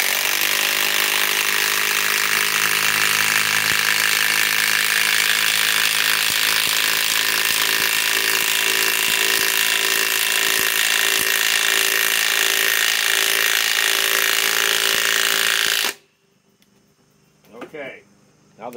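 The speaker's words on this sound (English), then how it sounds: "Drive the Milwaukee." Milwaukee 3/8-inch drive impact wrench driving a 6-inch lag screw, a loud continuous rapid hammering whir for about sixteen seconds that stops abruptly, followed by brief speech.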